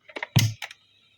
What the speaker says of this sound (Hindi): अब मैं ये दोनों एक साथ दबाऊंगा रिकॉर्डिंग